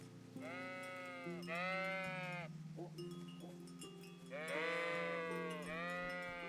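Several sheep bleat repeatedly in a medieval video game, loud wavering calls in bursts with a low droning tone beneath and a faint cowbell-like clink.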